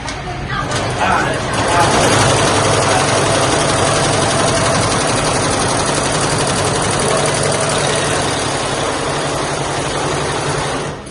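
A sewing machine stitches maggam-work blouse fabric in a blouse workshop in Surat, a loud, continuous rapid mechanical whirring and rattle running steadily, with people talking over it.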